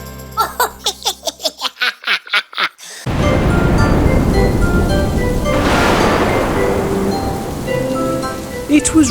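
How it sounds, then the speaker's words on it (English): Steady rain, loud and close, hisses down as an even wash for most of the stretch, after a short opening of rhythmic, bright pulsing sounds. "It was raining."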